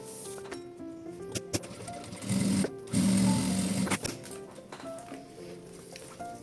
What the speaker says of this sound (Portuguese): posiciono em cima do corano e passo uma costura de um pezinho de máquina